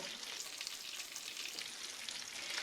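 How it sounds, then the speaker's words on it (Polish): Butter melting in a frying pan sizzles with a steady, bright crackle, close and even throughout, with no talking. "Na patelnię wkładam masło i gdy się rozpuści, doleję oliwę."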